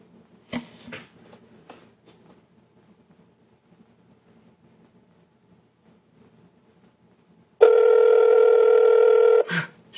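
After near silence, a single steady electronic ringing tone plays for about two seconds on the line of a Straight Talk home phone calling over-the-air programming.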